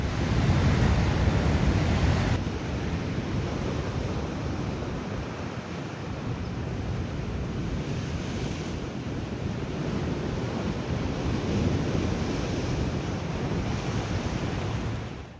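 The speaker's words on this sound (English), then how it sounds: "waves pounded the shore. The sound of the ocean fills every corner of this place." Heavy ocean surf pounds the shore on the California Central Coast, roaring continuously, loud and relentless, with wind buffeting the microphone throughout.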